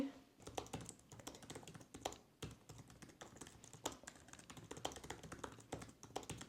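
Quick, uneven key taps on a computer keyboard come close and clear, with sharper keystrokes standing out among steady typing and no talk.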